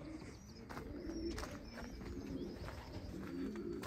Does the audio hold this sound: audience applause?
no